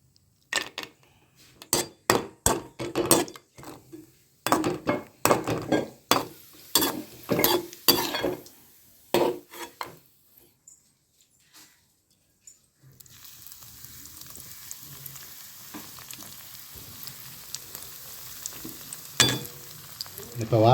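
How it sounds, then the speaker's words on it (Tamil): Sweet bread slices frying in about 150 ml of oil in a pan: sharp clatters and clinks of utensils come first, then a quiet pause, then a steady, moderate sizzle runs to the end with a few scrapes. "அதே சட்டியில் ஒரு 150 மில்லி ஆயிலை ஊற்றி ப்ரெட்டை பொரிப்போம்"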